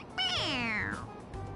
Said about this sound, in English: It's a stuffed animal. Yeah, it's just a toy. It meows when you press on its head.